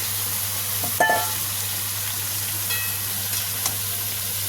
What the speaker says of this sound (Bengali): এবার আমি সব সবজিটা দিয়ে দিলাম, দিয়ে এবার এটাকে এখন নাড়িয়ে চাড়িয়ে নেবো